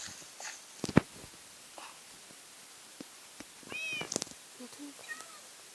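A cat meows a few times in short calls amid quiet background rustling and faint clatter, fairly soft and alone without talk.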